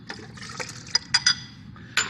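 Milk and water are poured for crepe batter, a soft liquid trickle with a few sharp glassy clinks from the containers, close and fairly quiet, with no talk over it.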